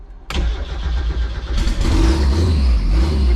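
A tuned car with a two-step launch switch fired up and revved, the engine catching abruptly and then roaring loud and close, climbing in a second surge and holding a strong throaty rumble.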